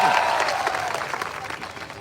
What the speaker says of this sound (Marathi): त्यासाठी एकदा सरांचं जोरदार टाळ्या वाजवून स्वागत करा.